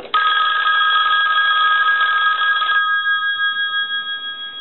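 The bell of a Western Electric 500 rotary desk telephone rings in one loud, close, continuous burst of under three seconds, then the metallic ring decays away with a pulsing shimmer.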